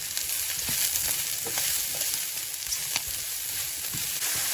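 Mushrooms sizzle steadily in vegetable oil in a pan, a continuous close frying hiss with small pops and crackles throughout, no voices.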